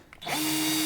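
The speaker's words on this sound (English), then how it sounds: "Gonna put it into the chuck of my cordless drill." A cordless drill spins up on a styrene tube clamped in its chuck, a short rising whir settling into a steady high motor whine, close and alone.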